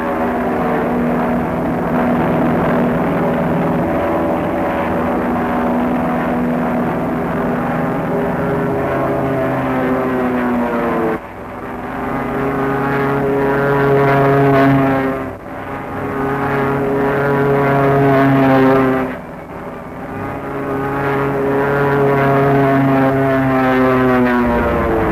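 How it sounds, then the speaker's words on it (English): Propeller-driven fighter-bomber aircraft flying in formation during a 1953 bombing mission, a loud continuous droning engine roar that swells and dips as planes pass, with no voices. "Returning to formation, the fighters peel off once more for the bomb runs."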